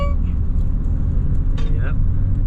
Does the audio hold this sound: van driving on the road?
yes